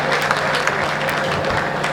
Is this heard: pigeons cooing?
no